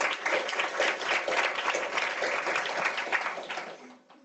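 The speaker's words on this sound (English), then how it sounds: "Please give yourself a round of applause." Applause from an audience at a women-in-tech leadership event, a steady, dense wash of clapping hands lasting several seconds before tapering off quickly at the end, with no talking over it.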